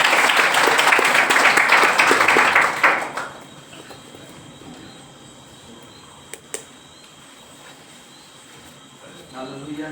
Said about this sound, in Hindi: एक बार जोरदार ताली बजाकर हम स्वागत करें।